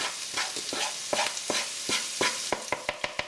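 Ginger, turmeric and coriander fry with potatoes for jeera potatoes, a loud close sizzle broken by repeated sharp spoon scrapes and stirs that quicken toward the end.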